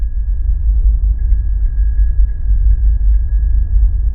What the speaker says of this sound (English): And this is how a bicycle bell would sound on Mars